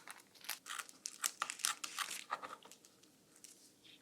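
A Ziploc plastic bag being cut for a superhero birthday party craft, giving close, brisk crinkling and snipping rustles in quick bursts over about three seconds, then fading to quieter handling.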